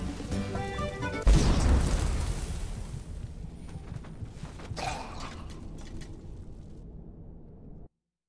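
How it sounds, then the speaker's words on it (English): A giant explosion in Skyrim bursts in with a loud boom, then a long rumbling, crackling tail that slowly fades over several seconds before cutting off; no talk. "Giant explosion of death."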